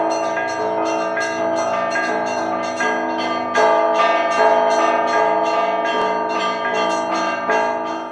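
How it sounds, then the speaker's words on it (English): Russian church bells ring loudly and close in a rapid, rhythmic peal of many overlapping strikes, rich and resonant, continuing without pause and with no voices. "But the most important thing about these bells was their sheer volume."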